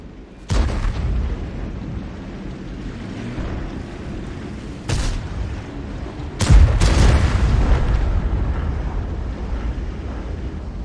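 Artillery shells from a Conqueror Gun Carriage in World of Tanks fire and burst as three deep booms, each followed by a long rumbling tail, the last one nearest and loudest, with no talk.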